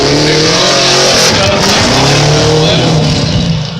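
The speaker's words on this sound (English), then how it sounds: "Josh Robinson in that big Holden Ute, the Commodore. Powering through the power alley" A Holden Commodore Ute race car roars loudly through a fast section of track on Nexen tires, engine note sustained and shifting in pitch as it powers past close by.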